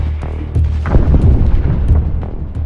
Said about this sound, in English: artillery fire does not stop